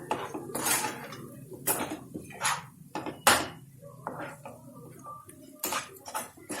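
A spoon stirs and scrapes mashed ridge gourd bharta in a metal pan, producing irregular clattering knocks and scrapes in close, uneven bursts.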